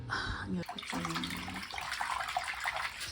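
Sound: soaking a uniform in lukewarm water with detergent

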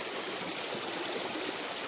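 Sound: stream of flowing water

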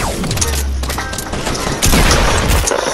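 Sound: shotgun fire in a video game

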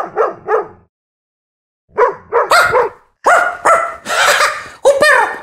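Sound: dog barking

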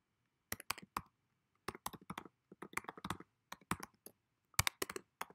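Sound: computer mouse click on login

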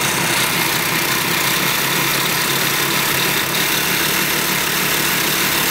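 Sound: homemade lawn mower engine running on a canoe

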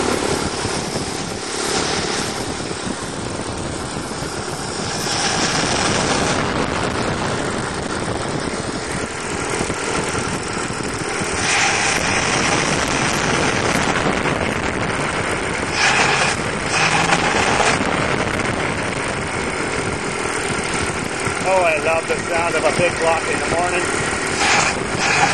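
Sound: 427 dump truck engine running

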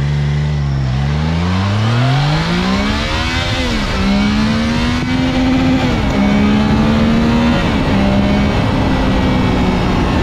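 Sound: Triumph Trident 660 motorcycle accelerating hard

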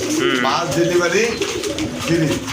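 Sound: white Danish pigeons cooing

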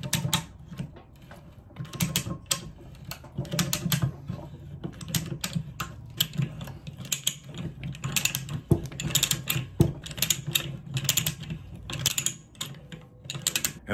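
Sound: pipe threading machine running in reverse, cutting metal curls

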